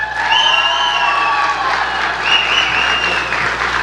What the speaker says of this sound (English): she got bigger applause than you did